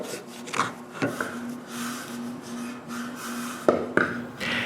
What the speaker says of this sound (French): Il ne reste plus qu'à appliquer 2 couches d'huile danoise sur tous les morceaux.